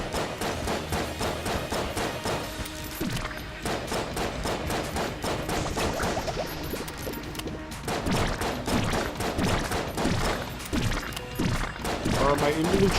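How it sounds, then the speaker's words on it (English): Gunfire from the Enter the Gungeon video game, with spent bullet shell casings tinkling across the floor. A dense, rapid run of sharp clicks and clatters continues throughout, beneath a person talking. "Are my individual shell casings from each bullet I fired tinkling off the floor now?"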